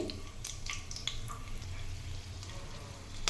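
Garlic cloves drop into a hot oil tempering for dondakaya (ivy gourd) fry, giving a steady soft sizzle with small crackles and pops throughout, with no talking.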